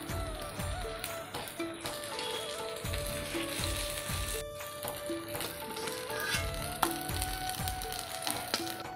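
Bora fritters sizzling and frying in hot oil, a steady crackling hiss filling the whole stretch with small pops and a few faint taps of utensils, close and continuous with no talk.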